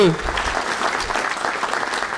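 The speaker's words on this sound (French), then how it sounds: "applaudissez-la." Audience applause at a New Year's greetings ceremony for residents, business leaders and associations, a short burst of steady clapping from a hall crowd, with a voice briefly heard at the start.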